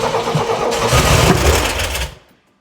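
A Corvair aircraft engine being cranked on its first start attempt, a loud churning starter-and-engine rumble lasting about two seconds before cutting off abruptly into silence.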